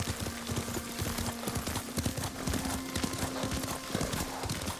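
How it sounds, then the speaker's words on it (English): Horse hooves clip-clop steadily in a rapid, even rhythm while riding in the Ghost of Tsushima video game, with a steady tonal hum and an occasional whinny in the background. "Lord Sakai taught me to ride a horse."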